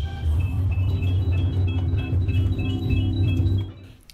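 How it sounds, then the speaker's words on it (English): Plucked fiber optic strings on an interactive musical ceramic sculpture give off steady, overlapping electronic tones that shift in pitch, over a constant low rumble that fades near the end. "Plucking fiber optic strings."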